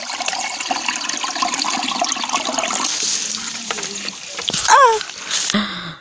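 Water rushes and splashes steadily, loud and close, on Chigodora mountain near Mutare, Zimbabwe, with a few brief voice-like sounds near the end.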